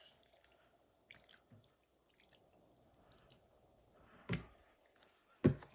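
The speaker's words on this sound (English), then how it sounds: "What I do, usually I pour the soy sauce first." Soy sauce poured over meat at a backyard barbecue gives faint, soft liquid drips against a quiet background, ending with two sharper wet splats close by.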